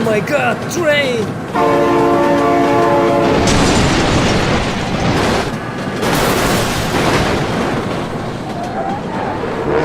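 In the BeamNG.drive driving game, a train horn blares in a long sustained blast over the rumble and clatter of passing rail cars, with an excited voice shouting over the noise.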